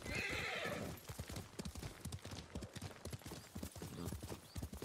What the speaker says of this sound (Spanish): Yo agarro el caballo para ir un poquito más rápido, obviamente.